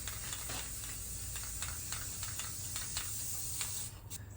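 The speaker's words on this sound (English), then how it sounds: "I sprayed some primer paint on the plywood base to seal the surface a little." Primer paint hisses from a spray can onto a plywood base in short repeated bursts, a faint airy spray with brief pauses between passes and no talking.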